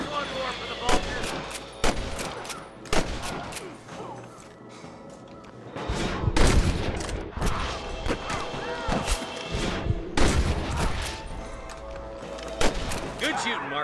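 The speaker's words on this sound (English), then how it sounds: "Good shooting, Marston." Gunfire in the Western video game Red Dead Redemption: repeated loud shots and rapid bursts ring out over roughly fourteen seconds, some close and sharp, others overlapping into heavy volleys, with voices speaking between them.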